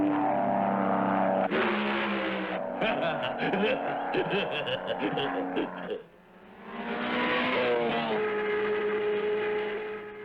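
A race car engine roars and climbs through rising gears, the whine sweeping upward, dipping briefly, then building again at a steady distance.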